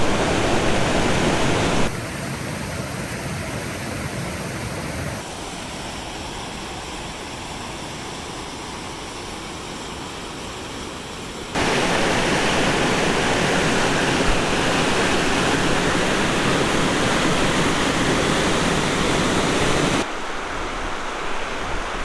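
The Blaeberry River rushes beneath a logging road bridge, a loud, unbroken roar of flowing water heard close, with the level shifting between sections.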